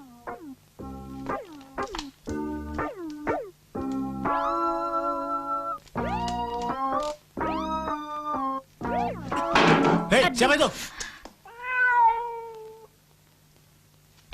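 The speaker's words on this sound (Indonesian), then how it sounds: "Kucing sialan." A cat meows repeatedly up close in a series of drawn-out, insistent cries, with a clatter in the middle and a short spoken line between the calls.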